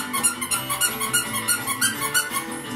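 A squeaker inside a dog's toy bone, handed out at Christmas, gives a quick run of sharp, even squeaks, roughly three per second, fairly close and steady throughout.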